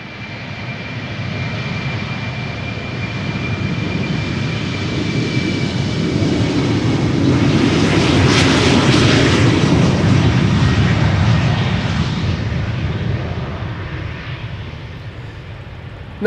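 A KLM Cityhopper airliner on its takeoff roll at Amsterdam Schiphol Airport: loud, close jet engine roar that builds toward a peak midway through the clip, then slowly recedes as the aircraft climbs away.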